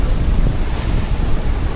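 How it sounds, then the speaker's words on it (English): Ocean waves break in a loud, continuous wash of surf close by, with heavy wind buffeting the microphone throughout and no talking. "But look at the waves there."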